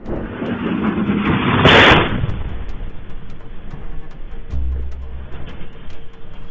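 Explosions in central Dnipro, Ukraine: a loud distant blast booms out early, followed by rumbling echoes and a lower thud later, over a steady background roar.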